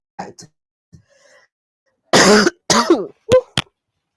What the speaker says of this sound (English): This cough that I have.